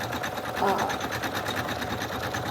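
An embroidery machine stitching a 6,000-stitch patch, its rapid, even mechanical chatter running steadily and close throughout while a person talks over it.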